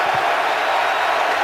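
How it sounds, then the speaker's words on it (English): Football stadium crowd at a 2014 Panthers at Packers game, a loud continuous roar with no distinct claps or chants across the whole stretch. "And the crowd getting very loud"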